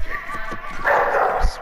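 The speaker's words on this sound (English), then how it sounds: "Sorry, my dog's going crazy." A pet dog barks and yips excitedly indoors, downstairs during a Fortnite gaming session, in a few sharp, loud bursts mixed with a person talking over it.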